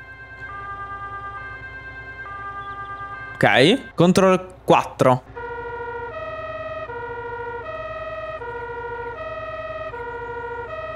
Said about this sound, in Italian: Ok, eh, le sirene.